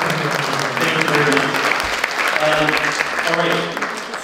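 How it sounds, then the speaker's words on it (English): An audience at a televised Canadian election debate on environmental issues claps in steady applause throughout, loud and close, with a voice speaking over it. "I offer a big round of applause to Liberals."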